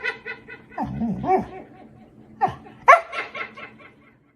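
A dog makes whiny, grumbling vocal sounds and short yelps, close and indoors, in a few bursts with quiet gaps between.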